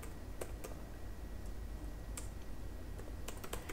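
Someone types a command on a computer keyboard, quiet scattered key clicks over a steady background hiss with no voice.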